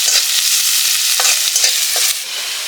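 Garlic and onion fry in a pan with a bright, continuous sizzle, close and loud, broken by quick stirring clicks and scrapes and easing slightly near the end, with no talking.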